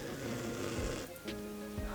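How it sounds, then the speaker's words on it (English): A man snores loudly nearby in a few deep, rasping pulls, each breath a heavy rattling drone close to the listener in an otherwise quiet room. "he's snoring so loud"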